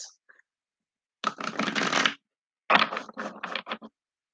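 Two bursts of crisp riffling as a deck of tarot cards is shuffled close by, the second broken into several quick flutters.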